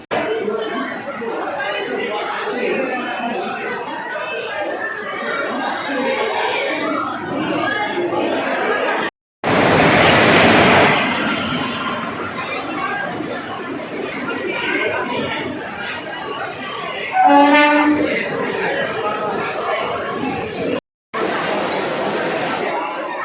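Dense crowd chatter and babble fill a busy Vidisha railway station packed with passengers during the Raksha Bandhan rush. A louder burst of noise cuts in briefly, and voices continue steadily throughout.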